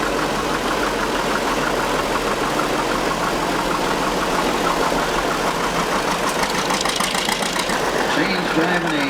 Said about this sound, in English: Minneapolis tractor that his dad purchased.